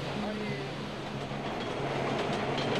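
A New York City subway train rumbles steadily with faint clattering wheels and a low hum, heard at moderate level throughout without clear speech.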